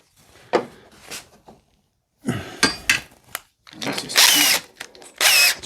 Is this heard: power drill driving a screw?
yes